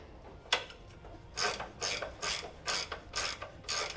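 Wrench turning the bolt on a preload lift collar for a 2024 Land Cruiser, a series of about seven rasping ratchet clicks in short, uneven bursts, close and fairly quiet, with no talk.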